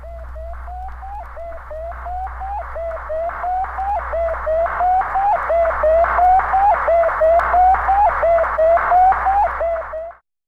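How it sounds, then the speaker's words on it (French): Sputnik satellite radio signal from 1957, a steady run of rapid, evenly spaced beeps repeating for about ten seconds over a low constant hum, clear and alone. "Ce que vous venez d'entendre, c'est Spoutnik"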